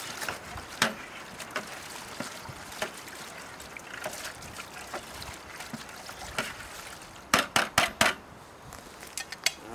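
Trap dye liquid being stirred in a container, soft sloshing and swirling throughout with a cluster of sharper knocks and splashes near the end, fairly close.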